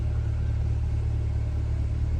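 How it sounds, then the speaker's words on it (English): A 2021 Chevrolet Corvette C8 Stingray coupe sits running, its engine a steady low rumble that stays even and close the whole time, with no voices over it. "Wow, I love the sound of that car"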